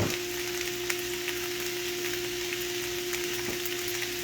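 Pork chops seasoned with black pepper sizzle and fry steadily in a pan, a continuous close crackle with a few faint scrapes and no talking.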